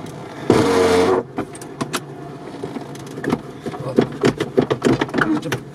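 Off-road UAZ or Jeep Cherokee XJ on 35-inch tires running while reversing: an engine revs hard for a moment, then drops back to a low idle with clicks and knocks over it as people talk.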